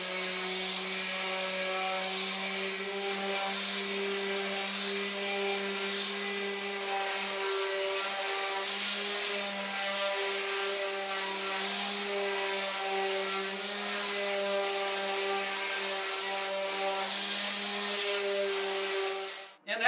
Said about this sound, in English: we're just going to hit everything with some 120 grit, sand it before we assemble it